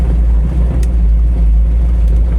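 A 1967 Chevy Camaro V8 rumbles steadily from close by with a deep, loud low-end drone as it drives slowly, with no voices over it.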